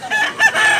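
A rooster crows at close range in a loud, drawn-out cock-a-doodle-doo of about 0.8 seconds, with bright, harmonic, strained tones. This is a yellow-legged bullstag gamecock offered for sale in Cebu.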